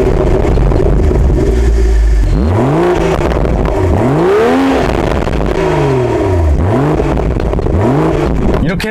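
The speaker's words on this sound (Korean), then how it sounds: "그 전에 시동 거는 소리와 배기음을 한번 제가 들려드렸습니다." A BMW Z4 M40i fires up with a loud burst, then its exhaust swells and falls in repeated revs, each rise and drop sweeping up and down in pitch, close and continuous throughout.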